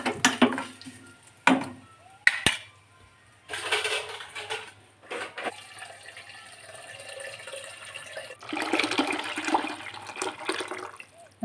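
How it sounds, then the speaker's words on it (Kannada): Water poured into a vessel of curd while cooking ash gourd tambuli in a home kitchen: several close, splashy bursts of pouring and sloshing, separated by quieter gaps. "ಒಂದೊಂದು ಮೊಸರಿನ ಪಾತ್ರೆಗೆ ನೀರು ಹಾಕ್ತಿದ್ದೇನೆ,"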